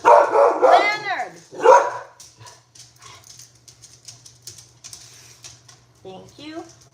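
A dog barks in a few sharp, close bursts at the start, then goes quiet while faint indoor sounds continue, with one more short yelp near the end.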